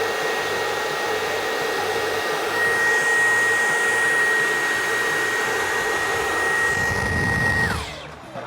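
A Dyson vacuum cleaner runs steadily at close range, its loud, even motor roar blowing fresh air through for several seconds with a constant whine before it winds down abruptly near the end.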